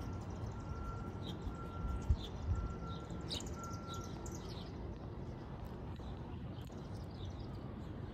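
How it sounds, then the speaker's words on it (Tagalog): Small wild birds chirp and sing outdoors in a quiet residential area, faint and somewhat distant over a steady ambient hush, with scattered short tweets across the stretch. "Ang ganda pakinggan. Mga ibon."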